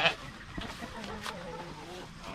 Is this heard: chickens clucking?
yes